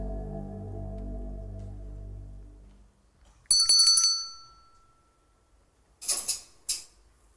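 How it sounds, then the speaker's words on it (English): A small bell rings sharply once, then after a pause a clockwork doll answers with brief mechanical whirring and clicking sounds in a quiet room, following a sustained low tone that fades out. "I ring a bell, and a piece of clockwork responds to the sound of the bell."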